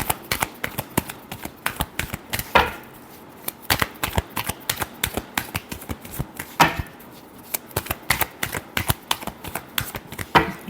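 Tarot cards being shuffled by hand in a steady run of quick riffling and tapping clicks, close and fairly loud, with no talk over them.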